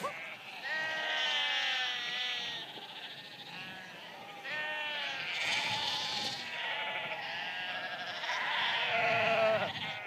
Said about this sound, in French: Les 5000 moutons sont parqués dans un enclos immense.